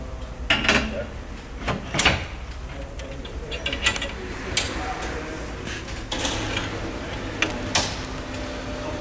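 The cover of an Evodos 10 machine is closed and latched, producing a series of mechanical clunks, clicks and rattling knocks spread irregularly over several seconds at close range, with low voices in the background.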